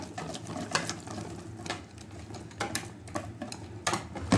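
Semolina batter for dahi bhalla being blended, a fast mechanical whirring and rattling that runs steadily throughout with irregular clicking bursts, close and fairly loud with no talk.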